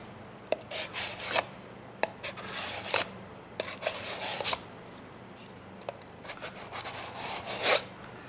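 A knife blade rubbed on 150 grit sandpaper to remove the burr, giving repeated scratchy rasping strokes in an irregular rhythm, close and moderately quiet, with no talk.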